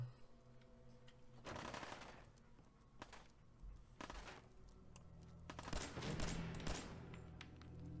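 Laser musket fire in the Fallout 4 video game: several bursts of sharp, crackling shots in uneven clusters, with the loudest volley near the end, over a low background hum.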